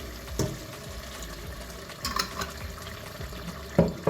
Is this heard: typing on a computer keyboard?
no